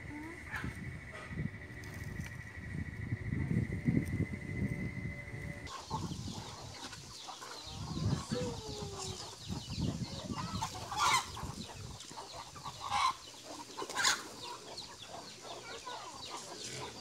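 Chickens on a farm cluck and murmur at close range, with scattered short calls and scratchy movement over a background hum that cuts off partway through.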